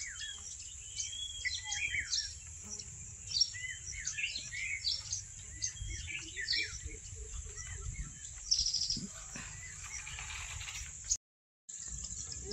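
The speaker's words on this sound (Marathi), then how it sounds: "हिरवागार सुंदर असा निसर्ग आणि त्यात पक्ष्यांची किलबिलाट कानावर पडल्यावर एकदम प्रसन्न" Birds chirp and twitter through green countryside, with scattered quick calls from several birds at moderate distance over a quiet background hum, briefly cut near the end.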